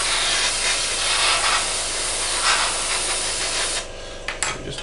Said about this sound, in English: because you're spraying neat paint, it's very thick and dries very